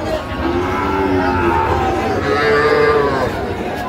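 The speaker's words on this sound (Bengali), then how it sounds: "চলো না একটু দেখি গরুগুলো।" Sahiwal cattle bellow at a crowded cattle market, long loud moos rising and falling close by over a background of crowd chatter.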